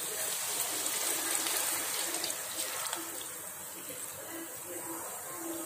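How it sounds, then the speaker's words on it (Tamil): Tamarind water is poured into a pan of sautéed brinjal for a spicy Tamil curry, a steady liquid splashing and trickling that stays fairly loud and continuous throughout. "நம்ம கரைச்சி வச்சிருக்க புளி தண்ணியை ஊற்றிடலாம்."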